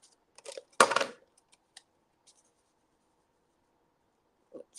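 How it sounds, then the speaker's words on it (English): A tape runner lays adhesive strips during paper crafting: a sharp scraping rasp close by, followed by a few faint clicks and taps in a quiet room. "we'll be wild and use the tape runner."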